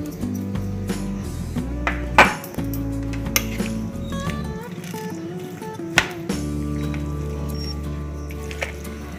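A spoon works through chopped taro stalks seasoned with salt and sugar in a bowl, with repeated clinks and soft squishing against steady background music.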